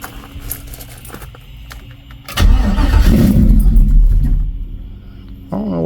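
An LS-swapped 1985 Buick Regal cold starts: a brief crank, then the engine catches with a loud rumbling roar and settles toward idle, with a voice at the very end.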